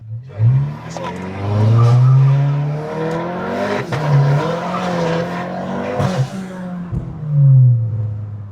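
A 2018 Volkswagen Jetta GLI launches hard with its tires spinning, the engine howling as it revs and the tires squealing in long wavering bursts, loud and close, with a voice briefly heard.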